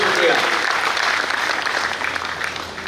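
A crowd claps loudly and densely at a Hindi poetry recital, the applause starting strong and then slowly thinning and fading.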